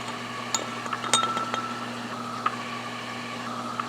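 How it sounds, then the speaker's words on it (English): Iron nails clink against a glass beaker as they are pulled out during a lab, several small sharp metallic-glassy ticks scattered over a few seconds above a low steady room hum. "Let me pull the nails out."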